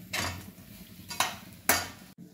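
Roasted coconut and grated jaggery are stirred in a pan over a low flame for modak filling, producing three scraping, clinking strokes of a spoon against the pan, close and sharp with quiet gaps between them.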